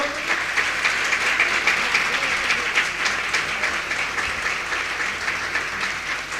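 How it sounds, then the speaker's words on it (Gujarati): A hall audience at a religious debate gathering applauding, with dense continuous clapping held at an even level throughout. "જોરદાર તાળીઓ ચાલુ રાખો."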